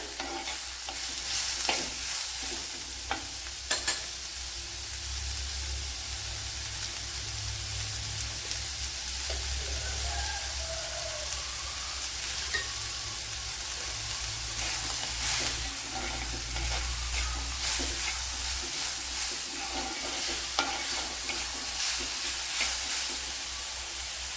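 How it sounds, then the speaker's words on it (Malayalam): Sliced onions sautéing with a little salt in a frying pan for a Kerala bitter gourd dish: a continuous close sizzle and frying crackle with repeated stirring scrapes throughout. "ഇപ്പോൾ സവാള കുറേയൊക്കെ വഴണ്ടിട്ടുണ്ട്."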